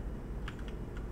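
A few quick computer keyboard keystrokes, soft and fairly close, scattered over low steady background hum during a World of Warcraft game session.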